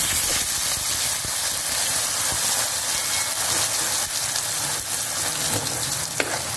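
Raw onion chutney bubbling in hot oil in a pan with curry leaves, a loud continuous sizzle and hiss close up, with a few faint stirring clicks.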